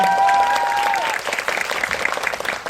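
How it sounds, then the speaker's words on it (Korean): An audience at a film society talk applauds to welcome a guest, with a brief burst of clapping and a voice at the start, then dense clapping that thins out. "박수 한 번만 환영해 주시겠습니다."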